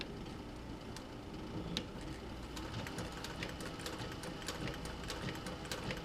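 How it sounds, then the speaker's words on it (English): Sewing machine stitching a seam on a leather camera or utility bag, including a few back stitches, running as a steady close mechanical whir with a fast ticking needle rhythm throughout. "I'm going to use that as my guide to do my seam. I'm going to do a couple of back stitches."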